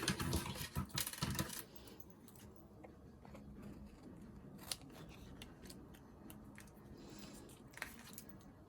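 Paper pieces for a patchwork card are trimmed with scissors, a cluster of close crisp snips at the start followed by quiet handling and a couple of faint clicks.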